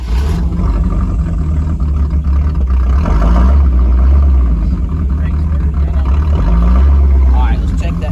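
Chevy square body truck engine cranking and catching while fed from a fuel jug, rough close engine roar with revving surges, voices speaking over it.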